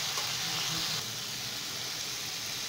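Panch phoron, the Bengali five-spice mix, crackling and sizzling in a little hot oil, a steady near frying hiss throughout.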